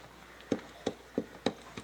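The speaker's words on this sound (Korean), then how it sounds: "자, 먼저 바닥을 한번 두드려 본다." Four sharp, evenly spaced knocks on a hollow wooden floor inside a replica of Noah's ark give dull, resonant thuds close by, with no talking.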